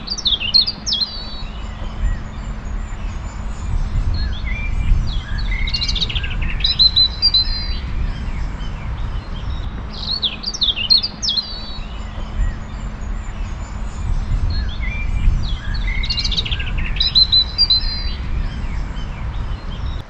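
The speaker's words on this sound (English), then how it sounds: "if you listen, perhaps you can hear the birds" Birds chirp and squawk in evening chatter, bursts of tweets recurring every few seconds over a constant low hum of distant road traffic.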